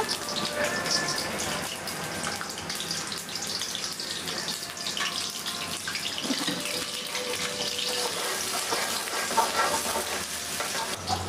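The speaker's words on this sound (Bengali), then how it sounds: "পরিমাণ মতো তেল দিয়ে দিলাম পেঁয়াজ কুচি দিয়ে দিলাম" Chopped onions fry in oil in a pan, giving a steady, dense sizzle that stays close and even throughout, with no voices.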